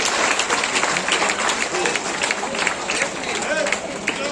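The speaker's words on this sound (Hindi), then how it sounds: "आप लोग ताली बजाकर स्वागत कीजिए।" A village street-corner crowd at a political rally claps in welcome, a dense close burst of applause running throughout with voices and shouts mixed in underneath.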